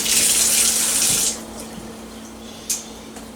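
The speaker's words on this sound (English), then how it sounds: "Rinse my hands here." Water runs loudly from a kitchen faucet as hands are rinsed under the stream, a steady hiss that cuts off after about a second, leaving faint drips and small clatters near the sink.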